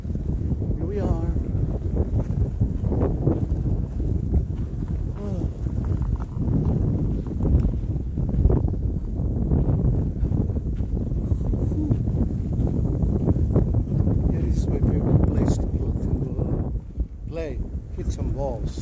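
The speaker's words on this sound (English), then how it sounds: "Oh my God, it's windy." Strong wind buffets the microphone in a continuous, loud roar outdoors while hitting balls, with a voice talking intermittently underneath.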